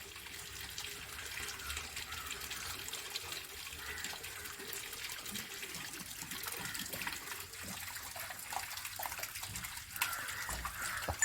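Water runs steadily from the tap of a home water filter, a continuous gushing hiss at moderate level, close by, with faint background sounds and little talking.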